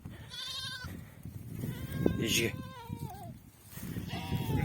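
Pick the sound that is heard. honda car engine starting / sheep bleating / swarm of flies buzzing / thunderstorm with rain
sheep bleating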